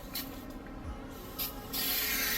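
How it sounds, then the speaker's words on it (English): Glass cleaner sprayed from a trigger bottle onto stainless steel side skirts during car detailing, heard as short hissy bursts followed by a longer steady spray near the end, fairly close with no talking. "just spray it down with the glass cleaner"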